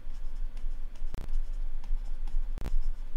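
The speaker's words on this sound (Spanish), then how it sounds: "Para avanzar en las páginas, se pulsa la barra espaciadora." A computer keyboard space bar pressed twice to page through terminal text, two sharp, close clicks well apart over a low steady hum.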